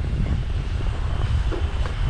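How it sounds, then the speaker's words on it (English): Strong wind buffets the microphone at an outdoor campsite in cold weather near Helen, Georgia, a steady low roar with gusty rumble filling the whole clip and no talking. "It is really windy out here, making it really hard for this grill."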